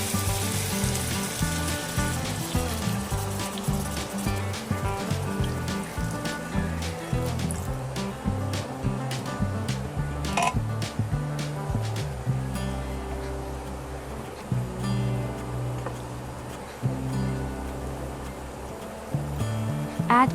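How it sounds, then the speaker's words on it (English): Water poured into a pan of sizzling adobo, a steady loud hissing and bubbling sizzle with background music playing throughout. "Add 2 cups of water."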